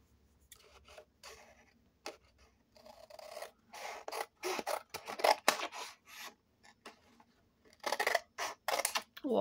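Scissors cutting paper for a handmade photo album, with a series of short, close, quiet snipping and rustling strokes in irregular bursts.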